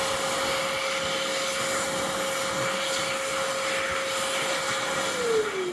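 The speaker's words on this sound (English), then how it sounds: "on to the first dryer, which is the Verde Dry V1 at the Big Lots in Monroeville" A Verde Dry V1 hand dryer in a Big Lots restroom in Monroeville blows with a loud, steady airy roar and a constant motor whine that dips slightly in pitch at the end.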